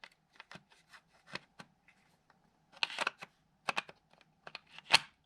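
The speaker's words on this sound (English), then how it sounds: "Now we're going to take this slide and just stick it on the rails." A Glock 19X slide is set onto the frame rails, heard as sparse, close metallic clicks and light scrapes with quiet gaps between them.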